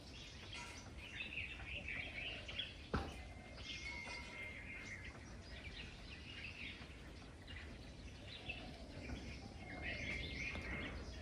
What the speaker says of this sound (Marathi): आपण आलो इथे आवाजावर पक्ष्यांच्या